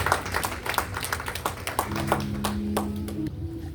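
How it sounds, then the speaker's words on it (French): A church congregation claps during a service, with scattered, uneven hand claps and taps in a loose rhythm, moderately close, while a brief sustained tone sounds midway. "Allons battre l'applaudissement pour nous."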